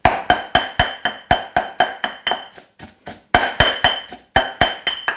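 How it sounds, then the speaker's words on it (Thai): Steady rhythmic pounding of chilli paste with a pestle in a mortar, sharp close knocks about four per second, with a couple of brief pauses. "เริ่มโขกได้เลยนะครับ"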